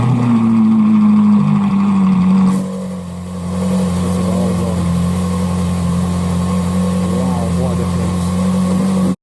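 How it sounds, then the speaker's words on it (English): Ferrari 458 engine on a cold start with an upgraded Novitec exhaust: a loud, steady elevated idle drone that dips briefly, then settles into a continuous rumble nearby. "This is how the car sounds on a cold start."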